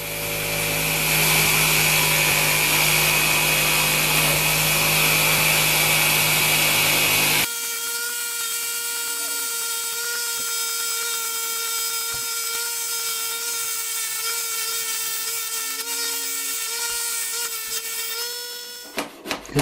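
A power saw cuts MDF discs for the form of a sheet metal propane forge. A loud, steady whine runs for several seconds, then gives way to a lower, sustained tonal drone with faint clatter near the end.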